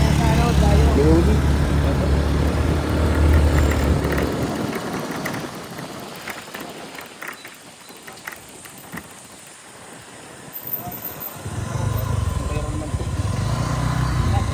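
A motorcycle engine idles outdoors with a low, steady rumble that dips in the middle and comes back, under wind noise and voices talking.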